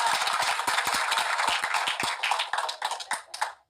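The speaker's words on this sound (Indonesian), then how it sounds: "Awas, tepuk tangan." Audience clapping at a religious talk, a run of sharp, closely spaced hand claps that stays fairly brisk, then loosens into sparser, separate claps toward the end.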